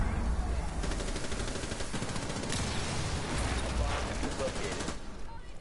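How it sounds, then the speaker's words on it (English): Rapid bursts of gunfire from a wallbang attempt in a competitive shooting video game, with a dense rattle running under a commentator's voice. "Tries to go for a wallbang but finds nothing."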